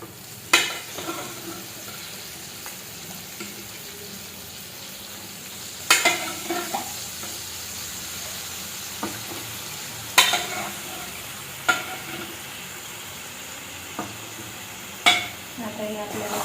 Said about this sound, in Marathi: आता लगेच ह्याच्यामध्ये आपल्याला शिजलेलं मटण टाकायचंय फ्राय करण्यासाठी.